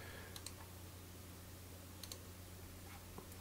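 A few scattered computer keyboard key presses, quiet, sharp clicks in small clusters over a faint steady background hum.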